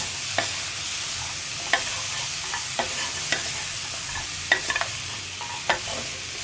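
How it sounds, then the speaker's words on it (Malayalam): Vegetables coated in masala are stirred in a pressure cooker, with a soft background sizzle and scattered spoon scrapes and taps against the metal, close by and fairly quiet. "ഒന്ന് ഇളക്കി കൊടുക്കുക"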